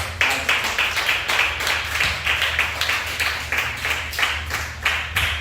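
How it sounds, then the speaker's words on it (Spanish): Church congregation clapping together at a sermon, a steady rhythmic beat of hands repeating about twice per second, fairly close and even, over a low hum, with no talking. "Démosle un fuerte aplauso."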